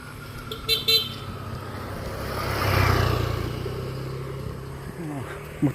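A motorcycle horn toots briefly near the start among rural road traffic in hilly green farmland in Mindanao, followed by a vehicle engine swelling past and fading.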